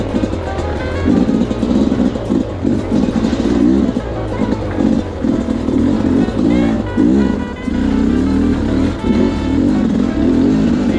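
Husqvarna FE350 dirt bike engine revving hard on a trail ride, loud and close with repeated throttle bursts rising and falling, wind rush underneath, no talking.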